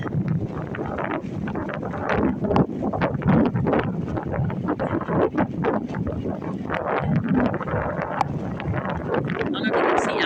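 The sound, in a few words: strong wind blowing outdoors on the stormy Oregon coast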